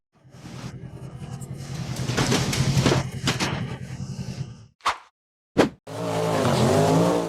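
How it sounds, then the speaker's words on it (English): A red off-road buggy charges up a rocky slope, its engine revving loud and close with rising strain and tire scrabbling, then a couple of sharp knocks and a renewed steady engine roar. "The red buggy charged up the rocky slope, bounced hard, and tipped over to the side"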